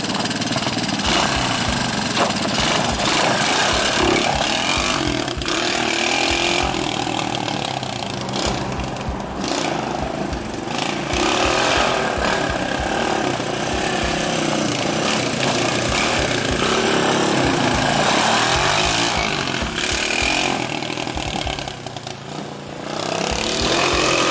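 A Honda 200X three-wheeler engine runs loud and close the whole time, a rough buzzing roar that rises and falls as it is revved, with a brief dip near the end.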